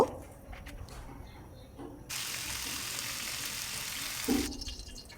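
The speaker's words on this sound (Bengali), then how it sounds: "কাকিলা মাছগুলো সরিষার তেল দিয়ে ভালো করে ভেজে নেব" Kakila gar fish frying in mustard oil in a kadai, a steady bright sizzle surging loudly for a couple of seconds, with quieter clattering before and after.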